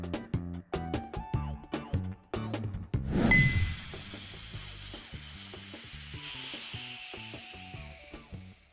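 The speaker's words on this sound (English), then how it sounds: "It's a snake. SS's." Snake hissing in a sustained, loud, airy rush that begins suddenly after a few seconds of rhythmic musical backing and holds steady to the end.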